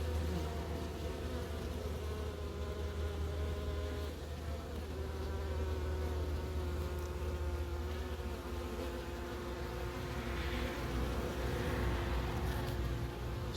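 Honeybees from a swarm buzz steadily at a hive in an apiary in the Vosges, a dense, continuous close-up drone that swells slightly toward the end, with no talking.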